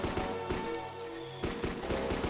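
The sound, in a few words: gunfire from enemy in video game kill.switch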